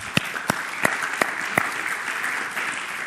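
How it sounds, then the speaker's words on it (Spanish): A church congregation applauds steadily during a Spanish-language sermon, a dense, even patter of clapping with a few sharper individual claps standing out. "Denle un aplauso al Señor, por favor."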